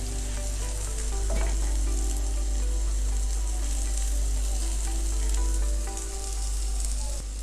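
Bread omelette sizzles and fries steadily in a pan, a constant close crackling hiss with faint stirring or utensil touches, no voices.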